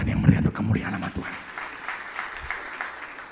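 Applause in a church service during a sermon on family life, a burst of clapping from the congregation that is loudest at the start and then tapers, with some low voice-like sound underneath.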